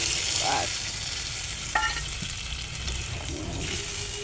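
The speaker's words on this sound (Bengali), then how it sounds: "সরষে মাছের রেসিপি একদম রেডি টকবক টকবক করে ফুটছে" Pabda fish curry made with mustard bubbles and sizzles in a pan. A steady frying hiss runs throughout, with a few sharp clinks and stirring sounds nearby and no talk.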